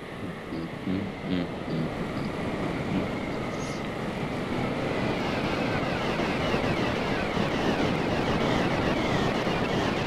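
A helicopter flying in the video game Scrap Mechanic gives off a steady broadband engine and rotor roar, a constant dense drone that stays loud and unbroken with no talk over it.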